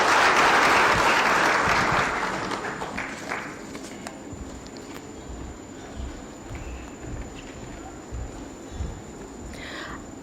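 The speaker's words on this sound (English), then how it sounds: "A better clap for Her Excellency Anne Waiguru." A crowd applauding, loud at first and then fading to a lighter, steadier patter of clapping that continues to the end.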